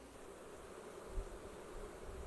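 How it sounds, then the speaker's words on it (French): Honeybees swarm thickly over a beehive during a beekeeper's inspection, a steady, soft, continuous buzzing drone with no voices. "Trop d'abeilles."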